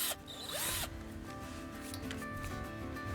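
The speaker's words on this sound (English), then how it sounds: "So I drill a hole through the wooden frame" A power drill bores through a wooden greenhouse frame with a high whine that winds up and then grinds steadily, close and fairly loud, with no talk.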